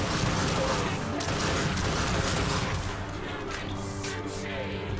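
Video game gunfire in The Darkness II, a dense burst of rapid automatic shots and crashing impacts that fills the first seconds, then thins into scattered lighter shots and action noise.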